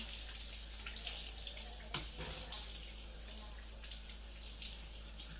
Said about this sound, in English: I like to rinse it off real quick. Give it a nice little rinse.